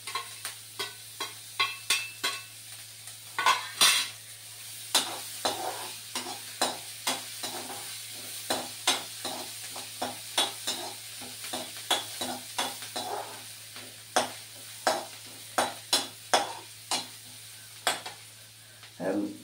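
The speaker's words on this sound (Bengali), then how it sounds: "রসুনটা লাল করে হয়ে গেছে, এবার পেঁয়াজ কুচিটা দিয়ে দিলাম, লঙ্কা কুচিটাও দিয়ে দিলাম, আদা কুচিটাও দিয়ে দিলাম।" Garlic, chopped onion, chilli and ginger stir-fried in a pan: steady sizzling broken by a regular series of sharp scraping stirs, repeated every half second or so, close and clear with no talk.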